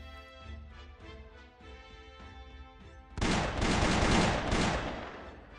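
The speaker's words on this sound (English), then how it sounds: "Six bullets shoot out of her revolver at once" A revolver in the Arknights game unloads six bullets at once, a sudden loud blast of overlapping shots that erupts after a quieter tonal music passage and rings on for a couple of seconds.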